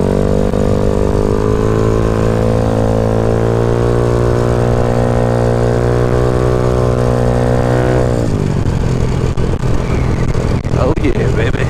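A Honda Ruckus scooter engine drones loudly and steadily while riding, its pitch holding then dropping sharply as the throttle eases, with wind buffeting near the end.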